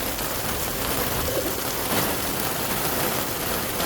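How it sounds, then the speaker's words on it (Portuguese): Heavy rain pours steadily outdoors near a cenote, making a dense, constant hiss with no breaks and no one speaking. "Banho de chuva pra tirar a zica."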